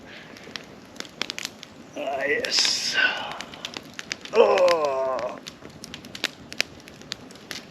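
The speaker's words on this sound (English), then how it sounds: "That is what you call a proper campfire." A proper campfire burns in a woodland camp, giving off scattered sharp crackles and pops throughout, with people talking briefly over it.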